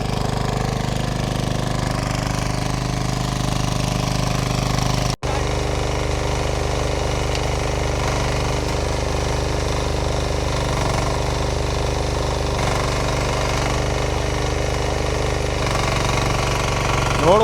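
A 10HP power weeder engine chugs steadily while tilling and ridging soil in a field, a loud continuous rhythmic knocking drone with a brief dropout partway through.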